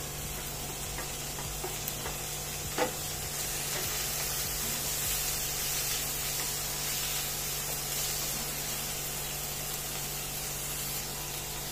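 Steady soft sizzle of spices, onion and tomato frying in a pan, a continuous hiss with occasional light scraping and stirring, alone without talk.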